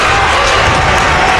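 A packed gymnasium crowd roars and cheers at a high school men's basketball regional final, loud, dense and continuous without a break.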